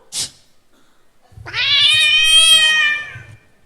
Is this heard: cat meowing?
yes